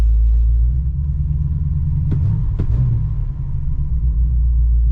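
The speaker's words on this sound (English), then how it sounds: "It's idling high." A 1969 Pontiac Bonneville Safari wagon's 428 V8 idles high, a loud steady low rumble heard from close by and continuing throughout, with a couple of faint clicks.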